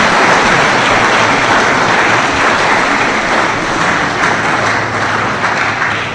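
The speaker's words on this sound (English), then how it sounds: "Let's give a clap again to our distinguished speaker." An audience claps for a distinguished speaker at a conference on biodiversity, a loud, dense and steady wash of applause throughout with no gaps.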